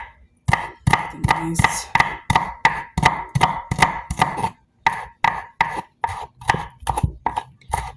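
Kitchen knife slicing a jalapeño on a cutting board, a steady run of about twenty crisp, close chops in even rhythm, with one short spoken word partway through.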